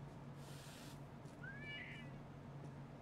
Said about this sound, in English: What is that sound? I can hear a cat.